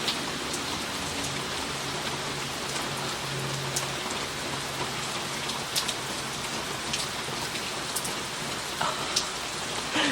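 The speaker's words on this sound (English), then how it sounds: "now that it's raining like crazy again" Steady, heavy rain pours down continuously, a dense hiss with scattered louder drops hitting nearby surfaces.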